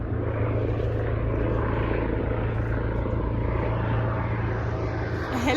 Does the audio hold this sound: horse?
no